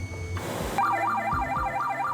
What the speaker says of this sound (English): Sound the alarm promptly.